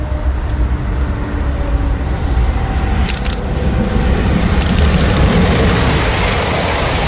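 A loud, continuous roar of a European high-speed train rushing past, broad rumbling noise like an airplane sustained throughout with no voices.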